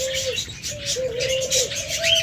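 A pet bird pair, a red male and female, gives soft cooing and chirping calls, close and fairly steady, with faint twittering layered above.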